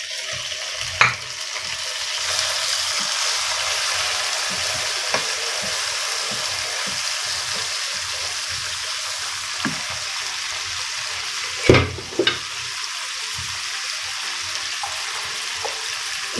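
Two medium tomatoes fry in a pan for spicy achari cauliflower, a loud continuous sizzle that runs steadily throughout, with a few sharp clinks of a spoon striking the pan.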